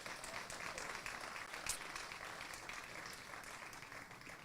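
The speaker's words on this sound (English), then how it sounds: "Would you please give a round of applause for that?" Audience applause at a hospital ribbon-cutting ceremony, steady moderate clapping from a crowd that fades slightly over several seconds.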